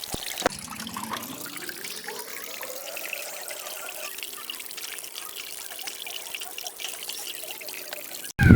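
Running tap water pours steadily into a basin as sliced meat for adobo is washed. The flow is close and continuous, with a rising trickling pitch as the container fills, then a brief louder splash at the end.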